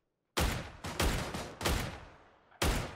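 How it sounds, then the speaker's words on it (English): Four loud, close gunshots from PUBG on console, fired in quick succession with sharp attacks and short decaying tails, then a brief gap before a final shot. "We both shot him at exactly the same time there."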